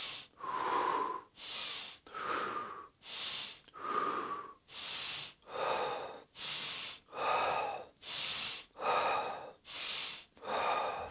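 Tummo-style deep breathing: a long series of strong, forceful inhales and exhales in a regular rhythm, close to the microphone, with no talking.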